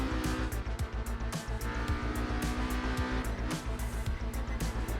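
Racing video game minivan oversteering on the Nordschleife, engine droning loud and close with rapid rhythmic pulsing and tire squeal in short bursts, no talk.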